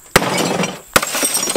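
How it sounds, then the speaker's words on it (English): A TV screen smashed with glass shattering: two sharp, loud breaking crashes about a second apart, each followed by tinkling glass debris scattering close by. "you remember the TV from our last video when we smashed it?"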